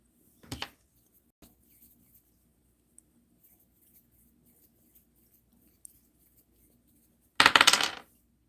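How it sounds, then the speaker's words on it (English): Dice rolled during a card reading land with a short rattle, then a few scattered faint ticks follow, before a second louder clattering roll near the end. "Let's roll your dice."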